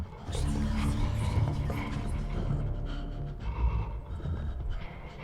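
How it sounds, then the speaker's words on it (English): Heavy, creepy breathing in the horror video game Eternal Darkness, loud ragged panting and snorting breaths repeating through the stretch, heard alone without talk. "Not the heavy breathing."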